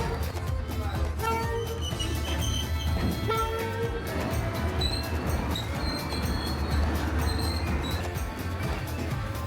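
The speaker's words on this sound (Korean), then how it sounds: "철로를 지나가는 기차를 가까이서 이렇게 가까이서 보는 건 처음이네." Train rolling along the railway tracks through the streets of Hanoi, a broad, continuous rumble with rattling and faint high squeals, heard close up amid street noise and crowd murmur.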